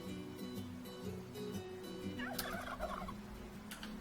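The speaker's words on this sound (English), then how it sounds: "We got little baby turkeys." A turkey gobbles in a quick rattling burst midway in the video game Dwarf Fortress, over a steady low hum and faint background tones.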